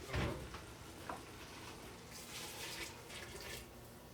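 Hot water poured into a pot of cooking onions, a faint hiss and sizzle with soft bubbling and a brief splash at the start, low and steady, no talking.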